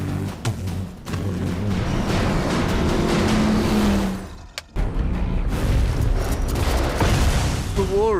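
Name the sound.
car with two V8 engines from 1959 Cadillac Coupe de Villes, Mad Max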